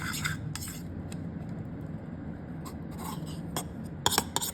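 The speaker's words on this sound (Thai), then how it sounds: "ตีให้เขาแตกแล้วก็คนผสมเข้ากัน" Utensils beat and stir eggs in a bowl, clinking and scraping in quick, irregular strokes, close by, with a few sharper taps near the end.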